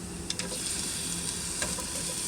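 Garlic fries in oil in a skillet for home cooking, giving a steady close sizzle with faint stirring clicks and no talk.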